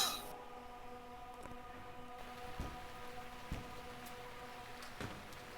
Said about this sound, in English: pouring with rain out here, damn it.